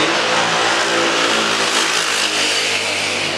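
Exhaust roar from a passing motor vehicle on a village road, a steady loud broadband rumble that swells slightly as it goes by, with no talk over it.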